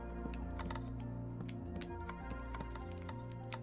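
Rapid, irregular clicking of pressure plates in Minecraft patters on steadily. The clicks sit over a loud, sustained low background drone and come in quick clusters without pause.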